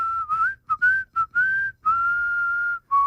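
An old cowboy tune whistled clearly in several phrases with short breaks, steady pitch and close to the listener, with no talking.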